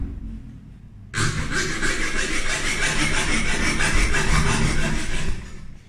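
A hand saw rasps through wood in fast, even strokes, a gritty back-and-forth scraping that starts abruptly and continues steadily up close.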